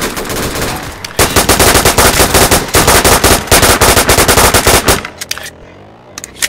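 An HK416 rifle fires on full automatic in a video game, with loud rapid bursts running almost continuously for about four seconds before breaking into a few scattered shots.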